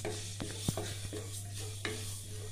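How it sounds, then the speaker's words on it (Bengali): Mustard seeds and five-spice dry-frying without oil in a wok give a soft sizzle under a steady hum, with a few sharp taps and scrapes of stirring. "এখানে আমি 1 চামচ সর্ষে নিয়েছিলাম, 1 চামচ নিয়ে নিয়েছি 5 ফোড়ন। এটাকে ভাজবো ভালো করে"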